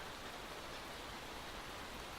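Steady hiss of a heavy rain downpour in the racing management game Motorsport Manager, continuous and even without breaks or voices.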